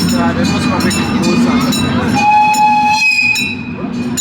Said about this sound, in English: Nice little relaxing ride there on the train